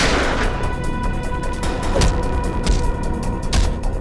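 Gunfire in a Tamil CID drama scene, a series of sharp booming shots at about two, 2.7 and 3.6 seconds over a loud, dense background rumble, with no voices.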